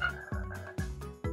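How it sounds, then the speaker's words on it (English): Cartoon frogs croak in a repeated series of loud, close calls, about four croaks in quick succession, each a deep burst standing alone without any talking. "It sounds like the frog guests have arrived."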